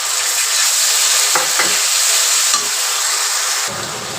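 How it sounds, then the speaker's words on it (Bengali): Garlic and cumin paste sizzles loudly in a pan with fried onions, a bright, continuous crackling hiss with a few sharp spatters and stirring scrapes, close up and without any voices. "আমি এবার রসুন বাটা জিরে বাটা দিয়ে দেব।"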